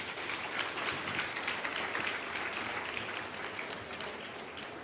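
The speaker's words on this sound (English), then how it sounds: "can all my learners just give yourself a round of applause" Learners in an audience at the launch of a skills development centre applaud, a dense, continuous wash of many hands clapping that holds steady and eases slightly toward the end, without speech over it.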